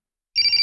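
A mobile phone ringtone starts abruptly in a Hindi action comedy film scene, a bright repeating electronic trill, loud and alone.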